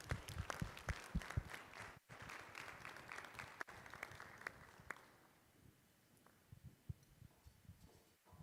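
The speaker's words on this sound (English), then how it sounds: "Another round of applause, please." An audience at an annual gala and awards banquet bursts into applause, a dense wash of many hands clapping for several seconds before fading to scattered claps in a large room.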